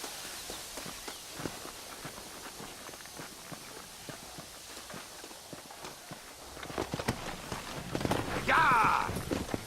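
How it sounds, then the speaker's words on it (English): Horse hooves clip-clop steadily in Red Dead Redemption, an even, moderately quiet trotting rhythm that builds louder near the end as other game sounds swell in. "There should be some horses for us across the way."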